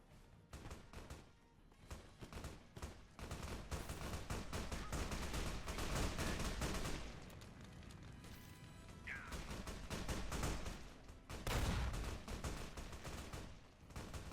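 Riot shotgun blasts in Fallout: New Vegas on PS3, loud, dense gunfire in rapid, overlapping bursts with crashing impacts, nearly continuous for the whole stretch.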